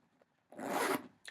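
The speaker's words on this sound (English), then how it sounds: "you can either zip it from the center to the center, or you can just leave the one on the end and just use the one zip all the way" Zipper on a Gucci Boston bag drawn in one quick, close, raspy pull lasting about half a second, followed by a brief faint tug at the end, with no voices.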